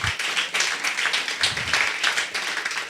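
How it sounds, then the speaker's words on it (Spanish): An audience at an international journalism seminar gives the production team a round of applause. The clapping is moderately close and comes in uneven, pulsing waves. "que se merecen un aplauso"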